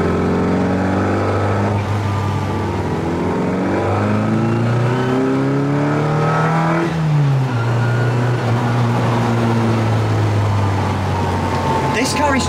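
A Mark 1 Mini Cooper 1275 S engine with a straight-cut gearbox revs hard and climbs through the gears, loud and close, with a brief drop in pitch partway through before pulling again.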